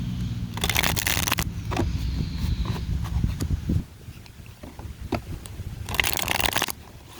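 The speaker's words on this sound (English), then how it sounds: "I'll do another little shuffle here" Cards are shuffled by hand, with two bursts of quick riffling flutter and soft handling taps and rustles in between, close by and without talk.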